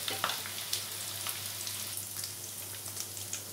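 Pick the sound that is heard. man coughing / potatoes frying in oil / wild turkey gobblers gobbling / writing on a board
potatoes frying in oil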